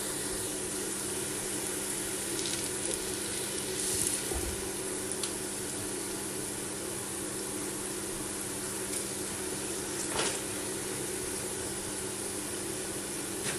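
Onions frying in a pot for lamb biryani, cooking down to golden brown: a quiet, steady sizzling hiss throughout, with occasional faint pops and small clinks.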